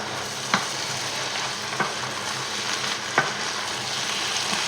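Vegetables and veal paupiettes sizzle steadily in a frying pan, a continuous close crackle with a few soft utensil taps spaced through it; no one talks.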